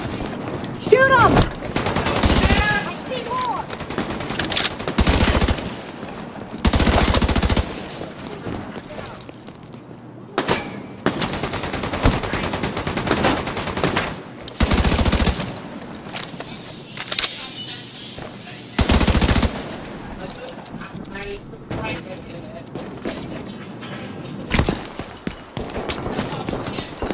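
Video game gunfire bursts out in loud, close volleys of rapid shots between quieter stretches, with people talking over the shooting.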